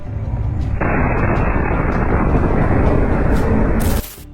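A massive, roaring blast erupts from a bulldozer in a Gaza war attack, sustaining loudly for several seconds before cutting off abruptly, followed by faint debris and crackling.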